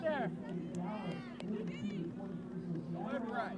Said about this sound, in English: you can hear the crowd in the background calling for deliberate